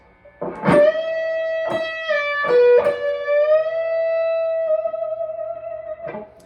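A single electric guitar plays a melodic lick with a pitch bend up to a sustained note, a few picked notes, then the held tone ringing alone.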